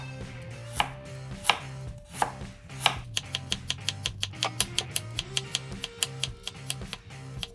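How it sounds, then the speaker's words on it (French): A knife chops through peeled black radish on a cutting board, cutting it into thin half-moons. Sharp, close strikes come in a few spaced cuts at first, then settle into a quick, steady rhythm of even taps with no talking. "J'ai décidé de le couper en deux et de le couper en fines demi-lunes."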